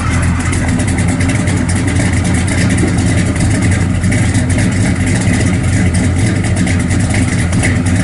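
A 1955 Chevrolet Bel Air two-door hardtop idles with a loud, steady low engine rumble, close up and continuous, with no talking.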